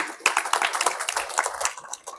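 An audience claps together for Rajni Mataji during a spiritual session, a dense patter of many hands sustained throughout at moderate loudness with no talk over it.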